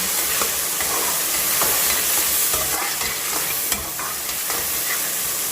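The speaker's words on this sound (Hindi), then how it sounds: "अब प्याज के साथ साथ जो है हम मटर की भी बुनाई करेंगे" Steady, dense sizzling of peas and onions frying in a pan, with occasional scraping and clinks of a spoon stirring, close and continuous.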